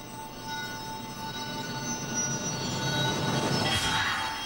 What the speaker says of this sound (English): The train leaves Luton Station.